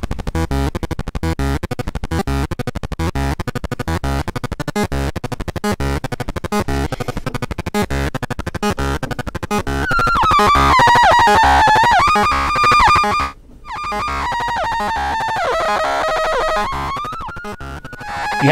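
A Metasonix RK4 oscillator/bandpass filter module is driven by control voltage from an Expert Sleepers interface. It gives a harsh buzzing, crackling pulse that turns into a loud, gliding, distorted sustained tone, with a brief dropout near the end.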